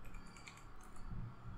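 Keys clatter in a quick, continuous patter as someone types on a computer keyboard while writing Emacs configuration, soft and close with no voices.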